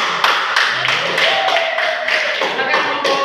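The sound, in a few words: classroom applause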